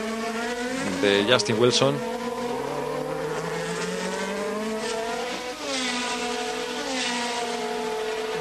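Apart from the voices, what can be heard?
Formula 3000 race cars at Spa, braking and overtaking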